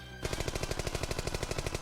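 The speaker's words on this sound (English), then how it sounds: "More gunshots were fired to force Orlok to stay within striking range." Gunshots fire in the visual novel Piofiore: Fated Memories as a rapid, evenly spaced burst of more than a dozen sharp, loud shots, like automatic fire, heard alone.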